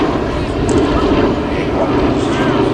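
A Boeing B-17 Flying Fortress, a four-engine piston bomber, flies past at the Midlands Air Festival, its engines a loud, continuous droning roar that stays steady throughout.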